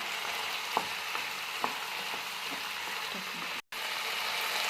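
Beans palya fries in a pan with a steady, close sizzling hiss, while a few light scrapes and taps come from stirring, with no talk.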